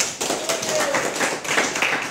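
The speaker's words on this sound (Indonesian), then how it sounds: "Tepuk tangan untuk kamu" A small group claps for a student's school sustainability project on waste processing, a short uneven burst of hand claps close by, with a faint voice in the background.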